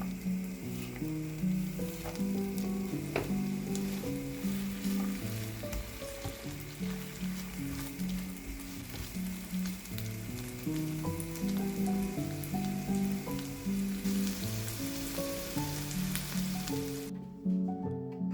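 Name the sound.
red onion and shallot sautéing in a pan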